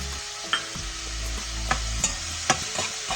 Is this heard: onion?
yes